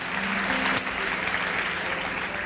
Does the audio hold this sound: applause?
yes